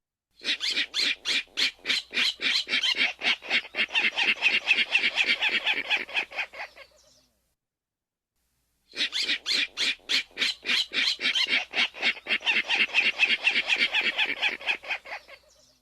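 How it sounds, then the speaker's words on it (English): A yellow rail in a wetland gives its grunting, piglet-like call: two long runs of rapid, evenly spaced harsh pulses, each series slowing and falling before fading, separated by a short silence. "they also do a grunting call that to me kind of sounds like a little piglet or something, hiding in the wetland"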